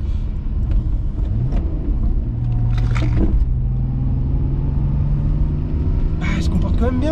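A BMW E39 525 TDS cruising at about 60 km/h, with a steady low engine and road rumble filling the cabin and someone talking over it throughout.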